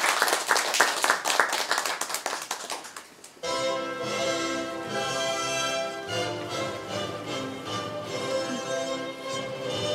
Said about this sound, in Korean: 환호는 자제하시되 많은 박수 부탁드립니다